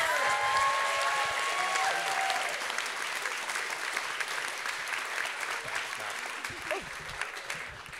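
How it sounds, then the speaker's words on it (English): Audience at a community theatre event breaks into sustained applause, a dense wash of many hands clapping that fades gradually, with a voice briefly heard at the start. "can we have a round of applause for everybody?"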